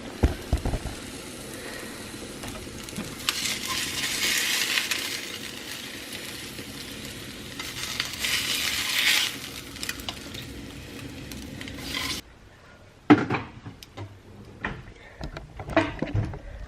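Cooked eggs being lifted out of a frying pan: a close, steady sizzle with scraping and light metallic clinks, then a short lull before a few sharper clatters.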